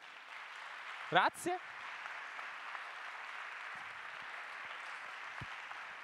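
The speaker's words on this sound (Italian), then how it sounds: "Un applauso per scaldarci." Audience applause in a lecture hall at the start of a talk, a continuous faint wash of clapping hands heard at a distance, with a short spoken word breaking in over it.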